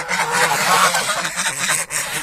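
Several geese honk loudly and continuously nearby, their harsh calls overlapping in a noisy flock chorus.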